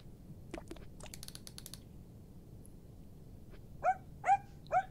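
A puppy in the point-and-click indie game Tales of Cosmos gives three short, clear barks near the end, following some faint clicking and tapping.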